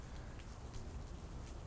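Steady rain falling in a video game, a dense even hiss of drops lasting the whole moment with no talk over it.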